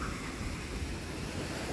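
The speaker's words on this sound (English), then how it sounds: "Look at the water wheel churning that water." A water wheel churns pond water outdoors, a faint, steady wash of splashing and turbulence with a low rumble, heard alone without talk over the short stretch.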